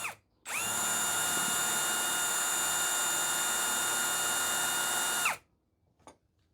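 A power drill boring a hole spins up sharply, holds a steady high whine for about five seconds, then winds down, with a faint click afterward; close and loud, no speech.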